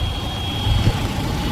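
A sand-carrying truck in a traffic jam, a loud steady engine rumble close by with a sustained high tonal whine over it, no talking.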